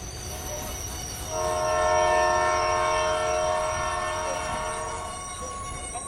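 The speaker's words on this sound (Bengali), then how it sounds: "ট্রেন মানকুণ্ডু স্টেশন পৌঁছল।" A train pulls into Mankundu station and sounds a long, loud horn held for several seconds over the rumble of the moving carriages, with no voices.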